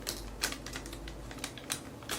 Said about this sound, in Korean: 이걸 한번 뜯어볼게요.